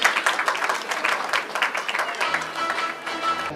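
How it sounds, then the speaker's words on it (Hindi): A recorded congratulations applause track plays at a film company launch event: dense, steady clapping throughout, with a faint sustained tone entering toward the end. "जोरदार ताली हो जाए। Can we have the congratulations track please?"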